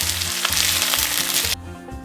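Hungarian goulash ingredients sizzle and hiss loudly in a pot as they are stirred, a dense continuous frying crackle that abruptly drops to a quieter simmer near the end.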